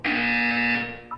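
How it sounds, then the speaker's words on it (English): A buzzer in the video game Portal 2 sounds as one loud, steady electronic tone lasting about a second, then cuts off, with a brief faint blip after it. "When you hear the buzzer, look up at the ceiling."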